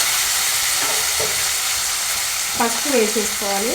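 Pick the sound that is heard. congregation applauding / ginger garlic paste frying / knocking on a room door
ginger garlic paste frying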